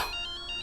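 A short electronic phone ringtone chirps in quick repeating beeps, clear and steady, with no voices.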